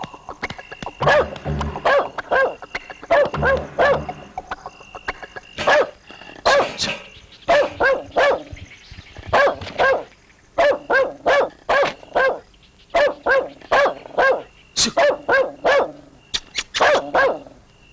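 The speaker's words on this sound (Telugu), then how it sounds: "ఏంటి కుక్క అక్కడ అరుస్తోంది?" A dog barks loudly and repeatedly in quick bursts of two to four barks, close by, for the whole stretch with no talking.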